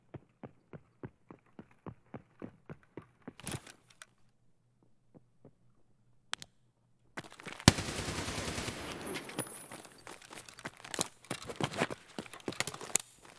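Gunfire from a favourite weapon in a shooter video game: a steady series of single, evenly spaced shots, then a sharp burst and a dense, sustained rattle of rapid automatic fire with clattering impacts near the end.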